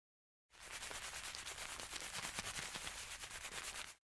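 Dense, steady wet rubbing and squishing with fine crackly texture, close up and continuous for a few seconds after a short silence.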